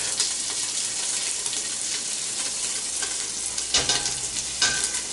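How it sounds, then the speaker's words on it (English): Oil sizzles in a hot pan for dirty macaroni, a bright, steady hiss with a few louder clattering moments partway through. "It's going to sizzle a little bit when you put the oil in"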